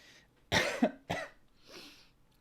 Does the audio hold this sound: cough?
yes